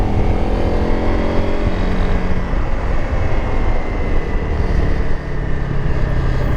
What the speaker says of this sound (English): Very pleasing motorcycle to ride, though.